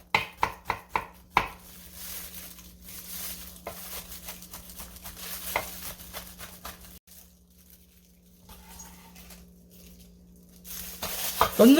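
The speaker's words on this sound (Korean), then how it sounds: "마늘도 그냥 채 썰어줘요" A knife slices through green onions and garlic in a rapid burst of crisp, near thumps on a cutting board, followed by scattered lighter cuts, a quiet pause and a few final knocks.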